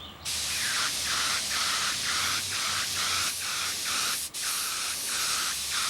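A spray gun lays a coat of aircraft dope on a model aircraft in chilly weather: one long, loud, steady hiss of spray with a faint pulsing texture and a brief break near the end.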